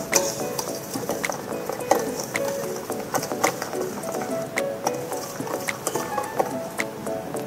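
Martabak batter ingredients stirred in a bowl, a soft continuous scraping and clicking of a utensil with irregular light taps, close and fairly quiet, without talk.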